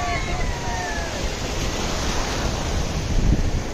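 Sea waves rush around a sleeper boat ride off Nagaon beach at Alibaug, a constant loud wash of water mixed with heavy wind buffeting, swelling slightly toward the end.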